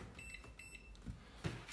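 A multimeter on continuity test gives two short, high beeps in quick succession while checking a low-voltage circuit on a Makita battery adapter, faint and close, followed by light handling clicks.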